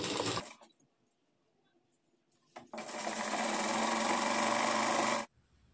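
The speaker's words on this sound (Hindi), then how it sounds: "उसके बाद यहाँ से हम सिलाई लगाएंगे।" A sewing machine stitches a sleeve in two bursts, a short run at the start and then a longer, even whirring stretch of about two and a half seconds, separated by quiet handling noises.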